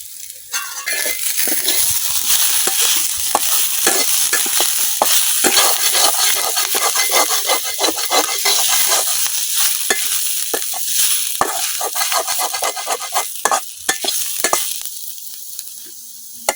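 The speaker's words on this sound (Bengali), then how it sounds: "আমার পেঁয়াজ রসুন কাঁচামরিচ সবগুলো কিন্তু ভাজা হয়ে গেছে সবকিছু" Onion, garlic and green chillies fry and sizzle steadily in a pan, with stirring scrapes throughout, a loud continuous hiss heard close up and alone.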